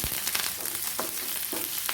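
Garlic and curry leaves sauté in a pan for a Kerala fish curry, giving a steady soft sizzle with a few faint stirring scrapes and no voices.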